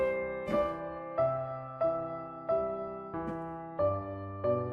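Piano playing a steady left-hand chord pattern with the right hand, each struck chord ringing out in an even, moderate rhythm about every two-thirds of a second, close and clear.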